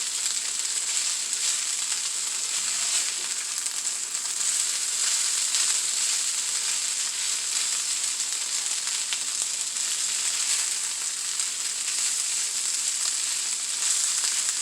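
Luncheon meat hash, a budget stand-in for corned beef hash, sizzles steadily as it browns in a pan: a dense, even frying hiss that holds at the same level throughout with no talk.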